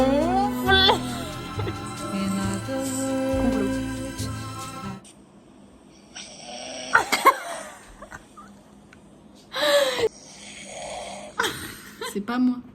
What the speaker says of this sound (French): Elle est ronfle.